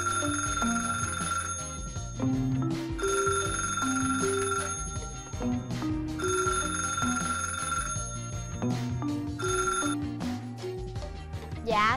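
A telephone rings repeatedly in bursts, its bell-like ringtone sounding over a busy musical backing in an indoor scene, fairly quiet and steady across the whole stretch.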